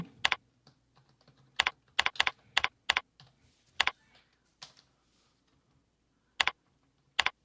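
Code typed on a computer keyboard, sharp close key clicks arriving in irregular bursts and single strokes separated by short pauses.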